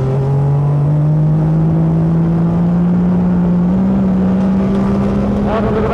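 A 1984 World Sportscar Championship race car heard onboard at Monza holds a loud, steady engine note that climbs in pitch through the gears, with a brief dip at a shift and a new rise near the end.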